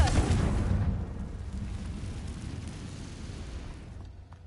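A Confringo blasting spell explodes in the Hogwarts Legacy video game, a loud booming burst at the start that rumbles and slowly fades over several seconds, with no talk.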